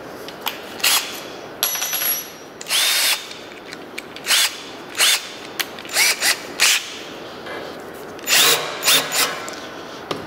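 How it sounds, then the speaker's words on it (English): Short bursts of a drill spinning a center drill to deburr a 1/4-20 threaded hole in a steel bar, about eight quick pulses over several seconds, each with a light metallic cutting edge, close by, no talking. "if I take my center drill and hit it real quick"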